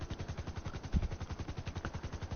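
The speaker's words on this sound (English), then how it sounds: "it's a machine gun, it has an explosive cannon actually" Rapid automatic fire from a vehicle's machine gun and explosive cannon in GTA Online rattles in a fast, steady rhythm, loud and close, with one heavier boom partway through.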